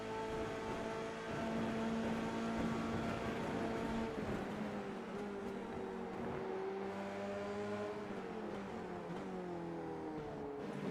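Race cars in a sim racing game at Misano, several engines droning and revving together at steady high volume, with overlapping pitch sweeps as cars shift gears and accelerate along the straight.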